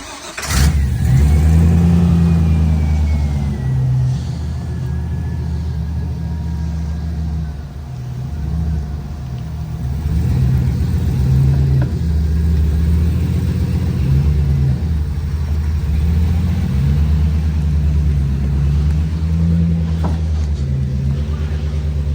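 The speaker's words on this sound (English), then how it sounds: "Now we're gonna hook up the Jeep and pull it on the trailer." A Jeep engine runs loud and close while towing a truck onto a trailer, a steady throbbing drone with a rev near the start and repeated surges of effort throughout.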